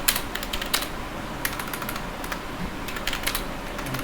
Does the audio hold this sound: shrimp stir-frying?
no